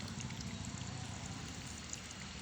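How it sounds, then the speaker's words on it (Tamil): Drip irrigation water running in a cucumber bed, a faint continuous trickle and flow with soft dribbling texture, steady from start to finish with no talk. "சொட்டு நீர் பாய்ஞ்சிட்ருக்கு."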